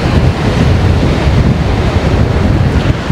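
Surf rolling onto Cola Beach in South Goa, a steady broadband wash of breaking waves with wind buffeting the microphone throughout, loud and continuous with no voices.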